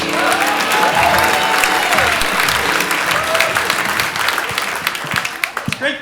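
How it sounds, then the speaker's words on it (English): An audience at a comedy boot camp gives a comedian a warm welcome with steady, dense applause that holds for several seconds before thinning into a few final claps. "A big round of applause for Richard Seidel."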